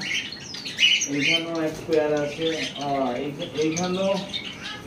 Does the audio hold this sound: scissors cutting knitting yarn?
no